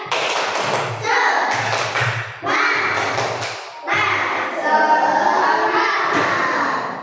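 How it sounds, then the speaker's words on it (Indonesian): A primary school class in a classroom clapping a patterned rhythm together in short bursts, loud and close, with thuds and children's voices mixed in. "Yuk tepuk semangat."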